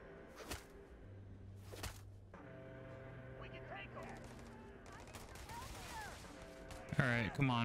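Gunfire in Starfield, sharp cracking shots: two isolated bangs early, then quieter rapid bursts over a steady electronic hum and tonal game music, ending in a louder flurry with other game effects.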